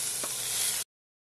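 Grated ingredients sauté in hot coconut oil with mustard seeds and asafoetida, giving a steady close sizzle that cuts off abruptly.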